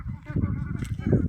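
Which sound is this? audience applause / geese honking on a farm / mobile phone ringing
geese honking on a farm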